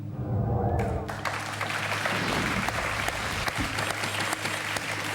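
A studio audience on the French TV game show A prendre ou à laisser breaks into sustained, dense applause that fills the set for several seconds, with a musical sting sounding at the start.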